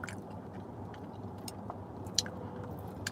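Soft wet chewing of sushi during dinner in a car, close and quiet, with small squishy bites and one sharper click against a low steady cabin hum.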